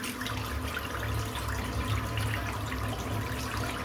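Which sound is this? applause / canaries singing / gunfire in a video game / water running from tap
water running from tap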